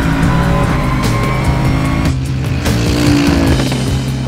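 A Bentley Continental GT3 race car with a 4-litre twin-turbo V8 at the Goodwood Festival of Speed, its engine roaring loud and close with rising and falling revs and gear changes, alone without talk.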